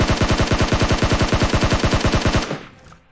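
Sustained automatic gunfire in PUBG Mobile, a loud, close, evenly spaced burst of about two dozen rapid shots that stops abruptly and leaves a brief fading echo.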